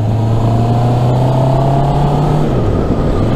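A Honda CB650R motorcycle accelerating on a test ride, its engine droning loud and steady at a rising pitch that drops briefly near the end, as at a gear change, with no voices.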